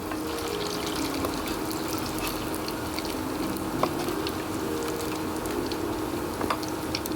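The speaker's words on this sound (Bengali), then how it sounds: "একদম ধিমি আছে আমি ভাজছি।" Cheese-stuffed potato pakoda fries in oil over low heat, a steady soft bubbling and sizzle with faint crackles, continuous and close, with no voices.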